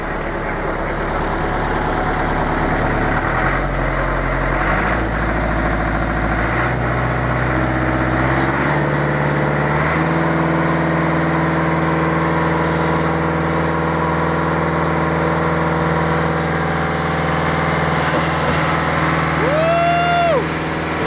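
The engine of a Schwing concrete pump runs with a loud, steady drone that shifts in pitch a few times early on, then holds an even rumble, with no one talking.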